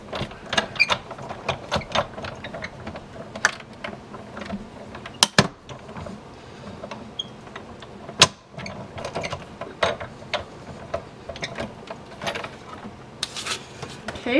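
Stampin' Up! die-cutting machine cranked by hand with Everyday Jars Framelits dies in a paper sandwich, giving a steady run of ratcheting, clicking mechanical gear noise with a few sharper clacks, close and alone.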